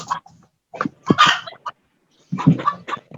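A chicken clucks in short, clipped bursts, a cluster of quick clucks followed by a pause and another brief run, close and moderately loud against silence.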